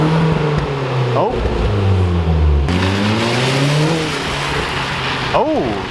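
A Hyundai Genesis with a newly installed exhaust revs loudly and close, engine pitch climbing and falling through several sweeps, with crackling pops as it backfires and voices talking over it.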